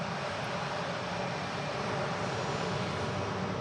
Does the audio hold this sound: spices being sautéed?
no